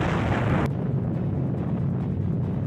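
A loud broadband burst of wartime artillery fire, like a shell blast during a sustained barrage against tanks, cuts off sharply and leaves a heavy low rumble and wind-like roar with no voices.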